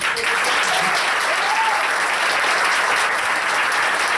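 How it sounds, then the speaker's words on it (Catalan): An audience at a school stage play applauds the production crew with dense, steady clapping that stays loud throughout, with no pauses and no voices above it. "I també se mereixen el seu aplaudiment."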